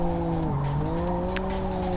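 Tire squeal from a car drifting in the racing game Live for Speed, sustained and loud with steady high whining tones over engine drone, the pitch dipping briefly before holding level for the whole stretch.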